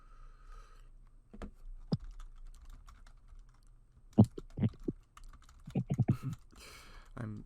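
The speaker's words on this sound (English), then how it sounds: "I'm typing away." Computer keyboard typing: a few isolated key taps early, then quicker clustered bursts of keystrokes later, close and crisp over a quiet background.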